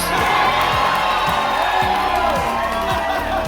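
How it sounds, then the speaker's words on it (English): Show audience aboard the Carnival Panorama cruise ship cheers for Team Orange, a loud sustained crowd roar of shouts and whoops lasting several seconds. "Let's hear it for the Orange Balls."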